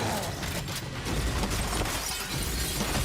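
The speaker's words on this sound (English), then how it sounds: "Why are you shooting the glass? Oh, okay, to break it." Glass shatters under gunfire in the video game Gears of War E-Day, a dense, loud crashing burst that fills the whole clip.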